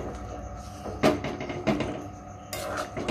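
A spoon scrapes and knocks against a pan of chickpea and paneer curry as sugar is stirred in, with a few sharp metallic clinks over a low background hum.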